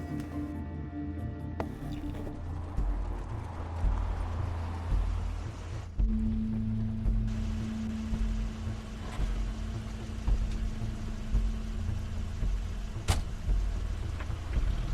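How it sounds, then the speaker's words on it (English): A video game car arrives as a steady engine rumble that changes partway through and keeps droning for several seconds, with a sharp click near the end. "That's Crane's car."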